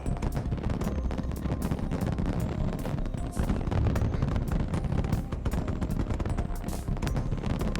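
A fireworks show in the video game Aether Gazer, with rapid irregular bursts and crackling pops layered over a continuous noisy rumble, moderately loud throughout.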